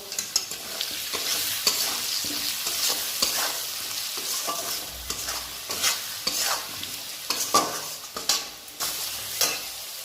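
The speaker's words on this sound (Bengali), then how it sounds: "এবার এটাকে আমি ভালো করে মিক্স করব।" A fish-head spice mix for a Bengali muri ghonto fries and sizzles in a pan while a spoon stirs it steadily, scraping and clattering in a busy, close rhythm with no talking.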